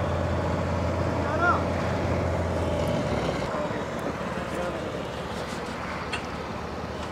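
A Kerala houseboat engine in Alleppey drones steadily as the boat pulls away, a low continuous hum that shifts slightly partway through, with people talking over it.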